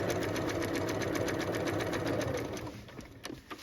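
A sewing machine stitches the side seam of an upcycled denim jacket, running steadily and close with a rhythmic needle chatter before slowing and stopping near the end.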